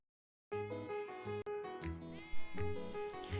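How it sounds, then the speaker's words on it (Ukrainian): Several sheep bleat in overlapping, wavering calls, close and loud, with no talking. "Так, малята, це вівці."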